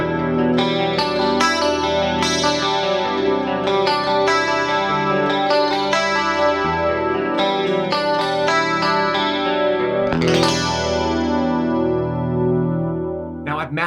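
Electric guitar played through a Fractal FM3 on a preset's lush clean scene, ringing chords with chorus shimmer and echo, loud and up front with a fresh strummed chord near the end, no voice over it.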